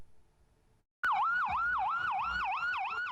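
A loud wailing siren on Santa's sleigh vehicle during the Mountain Santa Run in Harlan County cycles up and down in steady repeated sweeps, close by, after a brief quiet stretch of faint background noise.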